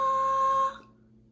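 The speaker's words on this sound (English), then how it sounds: "listen for a high note, it sounds like this." A single high sustained musical tone with a pure, steady pitch holds for under a second and then cuts off, followed by near silence.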